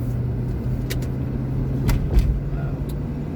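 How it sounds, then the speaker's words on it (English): A city truck drives past with a steady engine rumble, the driver working through a manual stick shift with brief rising revs between gears, fairly close and continuous. "Probably a damn city truck."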